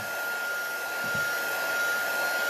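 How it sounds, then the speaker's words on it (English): A heat tool blows steadily as it slowly dries acrylic medium on a handmade Thanksgiving card, a close, even whooshing hum with a faint high whine that runs unbroken and without speech. "just dry this just slowly with the heat tool"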